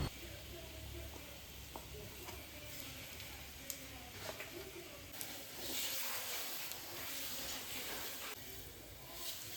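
Ground dates roast in ghee in a pan with a low, steady sizzle and hiss and occasional scraping stirs, faint but continuous throughout.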